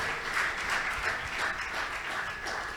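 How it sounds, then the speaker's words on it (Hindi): Audience clapping during a Shree Ram Katha religious discourse, a steady, moderately loud wash of many hands that continues evenly throughout with no talk over it. "अब बजाइए ताली"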